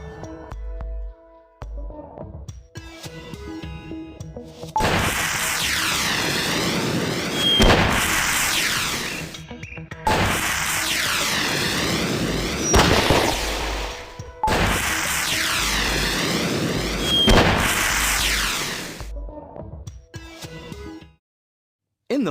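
Coloured flares fire in the Chug Patrol children's train video game, three long bursts of crackling, whooshing pyrotechnics with whistling sweeps, each lasting a few seconds with short gaps between, loud and close with no talking.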